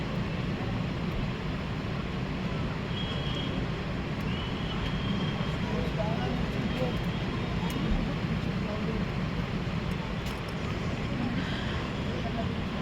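A just-landed airplane taxis toward its stand at an airport, its engines producing a steady, broad roaring rumble that holds at a moderate level throughout with only small fluctuations.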